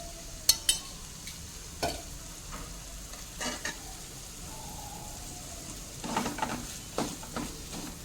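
Khoa cooks in ghee in a pan, giving a soft, faint sizzle broken by scattered spoon scrapes and stirring clinks at irregular intervals.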